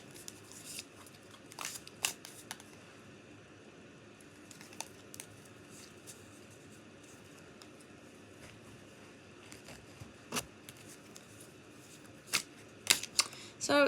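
Tarot cards are drawn from a deck during an intuitive reading, giving soft, sparse card flicks and slides with a few sharper snaps near the end over faint room noise.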